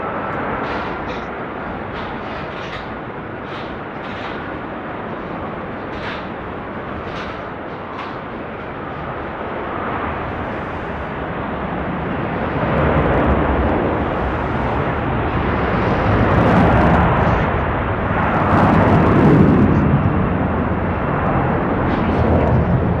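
Philippine Airlines airliner landing at Sydney Airport, a broad jet roar heard from outside that swells louder over the second half, with gusty wind buffeting and no speech.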